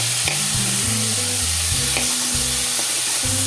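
Chopped onions and tomatoes sautéing in a pan for a spicy ivy gourd rice, a loud constant sizzle broken by repeated stirring scrapes and clinks from a utensil, with no talking.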